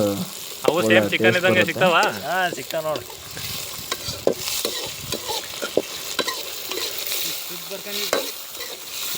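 Tomatoes frying in a pan for chicken chingari, cooked over a strongly burning stove, a continuous close sizzle and stirring that sits under a few seconds of talking near the start and carries on alone afterward.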